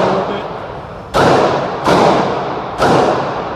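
A VEPR 12 gauge shotgun is fired four times at uneven intervals, each shot a loud, booming blast whose sound trails off slowly before the next.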